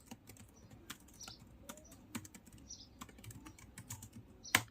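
Quiet, close keystrokes on a computer keyboard while Java code is typed, an irregular stream of soft clicks with one sharper tap near the end.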